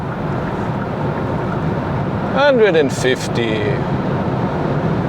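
Steady broadband road and wind roar inside the cabin of a Kia EV6 AWD 77.4 kWh GT-line driving at speed in sport mode, with a brief voice speaking partway through.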